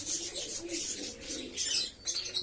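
Pigeons coo softly in a short, close stretch during a Sunday morning feeding, with a few brighter chirps near the end.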